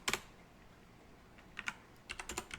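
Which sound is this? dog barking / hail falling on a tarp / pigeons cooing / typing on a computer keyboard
typing on a computer keyboard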